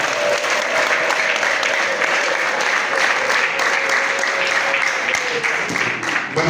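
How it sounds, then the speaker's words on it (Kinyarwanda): Continuous crowd applause at a wedding gathering in Rwanda for a Congo-married couple, thick and even, with a thin sustained ululation tone running above the clapping. "umuntu wese unezerewe niyo ugiye kumbera Imana amashyi"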